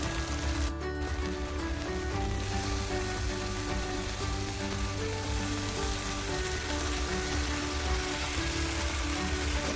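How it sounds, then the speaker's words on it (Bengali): Chicken pieces fry in oil-released spice masala, giving a dense, steady sizzle and crackle close by that holds unbroken throughout. "মশলাটা ভালো করে কষে নেব ভেজে মশলার তেল ছেড়ে দিচ্ছি এখন এখন আমি চিকেনগুলো দিয়ে দেবো"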